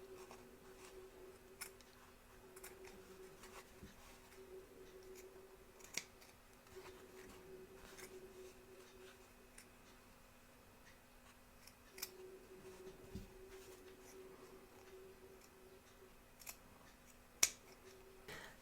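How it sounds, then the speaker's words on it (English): Scissors trim appliqué fabric close to the stitch line of a Statue of Liberty embroidery, giving faint, scattered snips and clicks spread through a quiet stretch over a steady low hum. "trim close to the stitch line, taking care not to cut the stitches"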